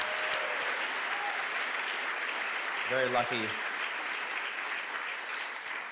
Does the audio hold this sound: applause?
yes